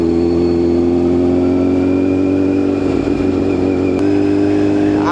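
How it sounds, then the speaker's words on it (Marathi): A superbike engine hums steadily while being ridden at low speed, a loud continuous drone with a slight rise in pitch toward the end and no voices. "आणि मी निघालोय दादाला घेऊन सुपर बाईकवरती."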